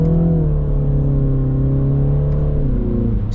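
A 2022 MINI Cooper S accelerating hard in sport mode, its engine note loud, close and continuous, rising steadily with a slight shift near the end and no talk over it.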